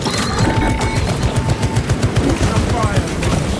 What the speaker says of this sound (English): Activating tarantula sentry gun.